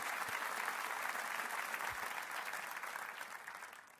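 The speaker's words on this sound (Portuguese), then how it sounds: "Dê para Jesus uma forte salva de palmas." A church congregation applauds at a Baptist prayer meeting, with dense, steady clapping from many hands that slowly fades.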